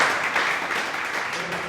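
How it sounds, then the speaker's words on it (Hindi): Brief applause from an audience at a reporting and journalism workshop, a steady mid-level patter of many hands clapping together for under two seconds. "तालियां तो बजाइए, तालियां"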